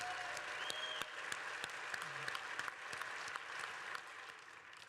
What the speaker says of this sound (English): Can we just get one more round of applause for that incredible technology?